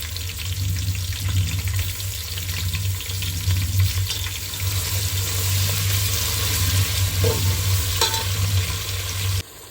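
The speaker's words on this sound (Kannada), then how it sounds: "ನೋಡಿ ಈರುಳ್ಳಿ ಇವಾಗ ಚೆನ್ನಾಗಿ ಫ್ರೈ ಆಗಿದೆ" Onions fry for palav in a pan with a steady sizzle and occasional stirring scrapes, continuous and close, with no talking.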